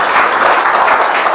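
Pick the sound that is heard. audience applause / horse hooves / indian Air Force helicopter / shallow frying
audience applause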